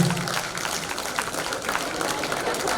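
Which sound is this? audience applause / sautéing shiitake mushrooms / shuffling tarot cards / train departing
audience applause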